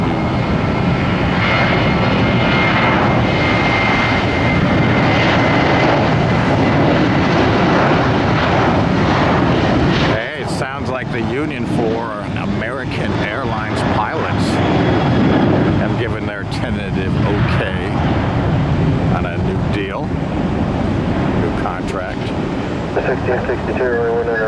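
A United Boeing 757 jet taking off at Tampa airport, its engines roaring loud and steady throughout, with a shift in the engine tone midway as the aircraft passes, and voices and radio chatter mixed in underneath.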